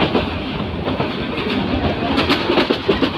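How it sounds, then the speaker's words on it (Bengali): A train rumbles steadily along the rails with rhythmic clattering, loud and close, heard from on board a passenger train with no talking. "ট্রেন চলে আসার পরে আমরা আমাদের ট্রেনে উঠে বসি তারপরে হচ্ছে ট্রেন ছেড়ে দেয়"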